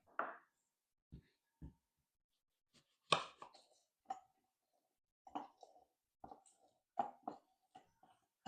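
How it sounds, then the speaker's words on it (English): Lemon being chopped and juiced for a sauce in a home kitchen: a few isolated knife knocks on a board, then scattered squeezing, dripping and handling clicks, fairly close and quiet with pauses between. "now I'm just going to chop and juice the lemon"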